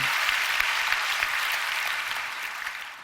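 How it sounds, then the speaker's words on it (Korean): Church congregation claps together at a prayer meeting, a steady wash of applause that slowly fades toward the end. "하나님께 영광의 박수 올리겠습니다"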